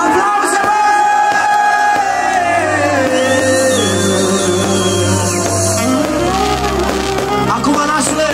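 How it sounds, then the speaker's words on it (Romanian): Loud, continuous crowd noise from wedding guests at a Romanian celebration, cheering, whooping and shouting over amplified music without a break. "Aplauze!"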